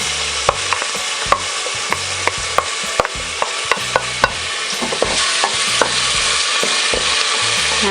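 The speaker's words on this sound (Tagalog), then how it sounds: "Igisa na po natin yung ating bawang." Garlic sautés in hot oil inside a pressure cooker, a dense continuous sizzle punctuated by regular clicks and taps of a spoon stirring against the metal pot, close and steady with no speech.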